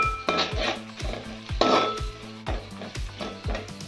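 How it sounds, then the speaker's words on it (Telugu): Curry leaves being stirred into gongura chicken in a pan produce repeated metal scraping and clinking of a spoon against the pan in a steady rhythm over a soft sizzle, close up, with no speech. "కరివేపాకు వేసుకున్న తర్వాత కలుపుకుంటున్నాను ఫ్రెండ్స్ అంతా"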